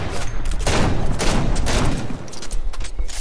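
Dense, sustained gunfire during a no-build squads Fortnite match, with overlapping bursts of shots crackling steadily through the whole stretch at close to mid range, and no talk over it.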